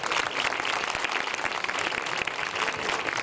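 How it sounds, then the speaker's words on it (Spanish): An outdoor crowd gives a steady, dense burst of clapping for a candidate for Vendimia harvest-festival queen, with a broad hiss of many hands and no voices over it. "Fuerte aplauso, claro que sí."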